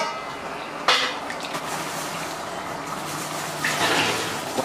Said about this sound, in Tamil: இது நல்லா ஒரு கொதி வந்த பிறகு புளி ஊற்றிக்கலாம்.